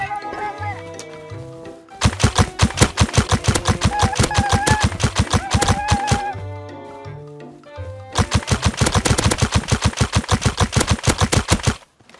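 Rapid automatic gunshots in the video game Rust, two long, evenly paced bursts of loud close shots separated by a short pause, with music-like tones in the gaps.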